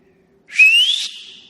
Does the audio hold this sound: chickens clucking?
no